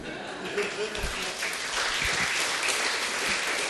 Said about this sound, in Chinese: 我们还是用热烈的掌声